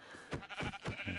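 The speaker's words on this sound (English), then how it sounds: "This is another sheep. I'm going for a sheep." Sheep in the Minecraft video game bleat in a run of several wavering calls, one after another at moderate volume, over a soft steady background.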